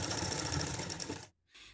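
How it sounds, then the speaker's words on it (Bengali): A sewing machine stitches a petticoat hem in a continuous fast whirring run that stops abruptly, then starts again briefly after a short silence. "এখন আমি নিচের পাটটি সেলাই করে দেখাবো।"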